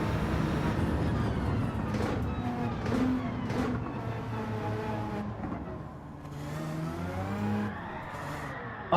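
A Jeep engine in a racing video game revs and drones continuously, its pitch rising and falling as it accelerates, loud and close throughout.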